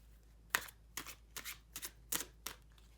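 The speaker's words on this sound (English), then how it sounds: "So first we'll give the cards a little shuffle" Tarot cards shuffled by hand in a quiet room, six or seven crisp riffling bursts spaced roughly half a second apart, close and fairly soft.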